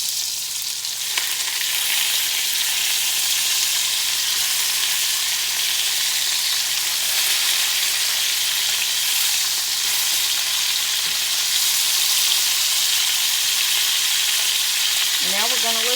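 Pork tenderloin frying in olive oil and butter in a pan, a steady close sizzle filling the whole stretch without letup, with a brief higher squeal of a utensil near the end.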